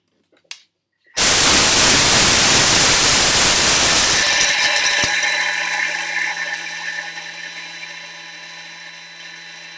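A Thermomix blending lentils at speed 10 starts abruptly after a small click as a loud, dense whirring roar, then the pitch rises and settles into a smoother high whine as the mixture breaks down.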